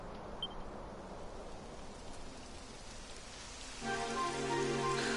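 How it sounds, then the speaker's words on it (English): Rain in the video game Dragon Quest XI, a steady soft hiss of falling rain on surfaces, faint and continuous, with a sustained tonal game music layer entering near the end. "It would have to go and start raining, wouldn't it?"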